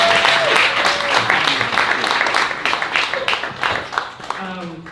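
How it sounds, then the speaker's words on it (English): An audience at a poetry event applauds, a dense round of clapping that starts loud and thins out toward the end, with voices talking over it. "So please give both of them a round of applause."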